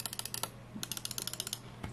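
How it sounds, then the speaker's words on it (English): Quick bursts of crisp clicks from the optical switches of a Razer Basilisk V3 mouse, several in a row, then a steadier run of evenly spaced sharp clicks, close up with no talking. "these are optical mouse switches"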